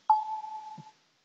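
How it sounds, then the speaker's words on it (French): A mobile phone gives a single short electronic beep, a steady tone lasting just under a second that ends with a soft low thump, close and fairly quiet, with no talk. "Désolé, c'est mon téléphone."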